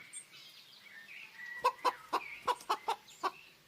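A chicken in the video game Lost Lands 10 gives a quick run of about eight sharp clucks in the second half, close and clear over quiet ambient background.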